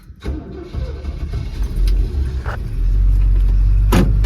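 Old pickup truck engine cranks and catches, then settles into a low, steady rumbling idle, close and loud.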